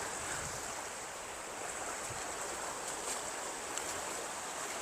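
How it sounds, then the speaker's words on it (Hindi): Gentle low waves wash along the shore of a Karachi beach at low tide in a continuous soft, airy surf wash, with light wind noise and no talking. "किनारे पर बहुत मध्यम सी लहरें नज़र आ रही है।"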